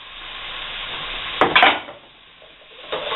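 Chopped carrot pieces tip into a pan of cooking onion, setting off a short, close burst of sizzling and clatter midway, which then eases back to a low hiss.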